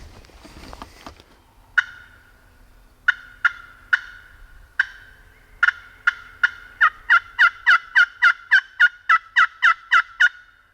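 A wild turkey calls in an open field, starting with a few spaced clucks and building into a fast, rhythmic run of about a dozen loud, rattling yelps that sound fairly close and carry on without any voices.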